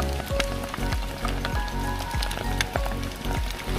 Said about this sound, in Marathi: आता जबरदस्त पाऊस पण आलाय त्याच्यामुळे